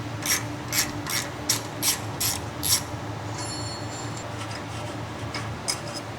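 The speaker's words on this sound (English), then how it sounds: "Continue to remove the caliper retaining bolts using the small ratcheting wrench, spinner handle, and 8mm short socket." Small ratcheting wrench with spinner handle and 8mm short socket turning the rear brake caliper retaining bolts on a 2015-2018 Ford Fusion, giving several bursts of close, crisp ratchet clicks in a quiet garage.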